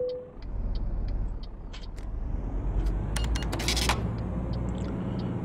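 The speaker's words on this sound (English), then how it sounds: "Sveta, start engine." A truck engine in Euro Truck Simulator 2 (Promods 2.1) turns over and settles into a steady, close, low diesel rumble, with faint hisses and clicks from the cab on top.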